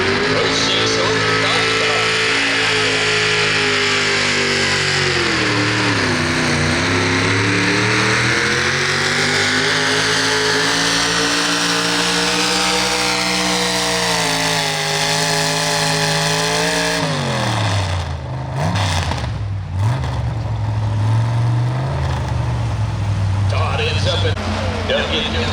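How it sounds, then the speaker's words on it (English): A V8 hot rod pulling tractor at a Guernsey County Fair truck and tractor pull in Old Washington, Ohio, revs loudly and continuously, its roaring pitch climbing and dipping for the whole stretch while an announcer talks over it. "Good class of V8 hot rod tractors"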